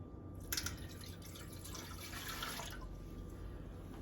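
Warm water runs from a tap in a quiet room, splashing and trickling into a cup for a few seconds before easing off.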